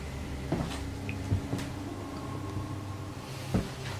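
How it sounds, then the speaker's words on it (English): A door creaks and knocks softly in a quiet room, with a few faint thuds and scrapes spread over several seconds against low background hum. "When they open the door,"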